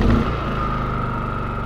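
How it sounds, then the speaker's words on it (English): A Champion 4500 watt generator engine running right after an electric start, with a short burst at the onset settling into a steady, close, loud engine hum and whine. "if you want to use the standard electric start, simply press this yellow button and turn the dial."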